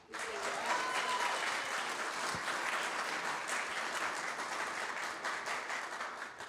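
An audience applauds and cheers at a mayors' summit against antisemitism in New Orleans, with dense, steady clapping and a few raised voices running loud and continuous throughout.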